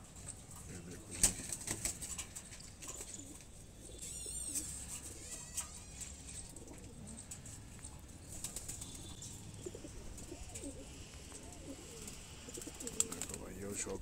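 A large flock of Kalseere Madrasi pigeons coos softly while wings flap in sudden bursts, with faint voices murmuring in the background.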